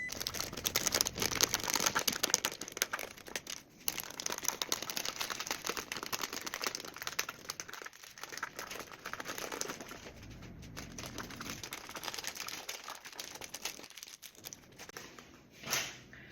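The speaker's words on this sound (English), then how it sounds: "I'm just going to go around now and just cut off the excess" Plastic wrap is cut away around the rim of a bowl for a spring centerpiece, giving continuous close crinkling and snipping that runs with brief pauses throughout, no talk.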